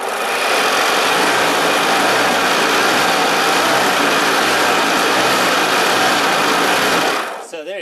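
A homemade neodymium-magnet electric generator, turned by hand crank, gives off a steady loud whirring hum with a rattling mechanical buzz that holds unbroken for about seven seconds before stopping abruptly.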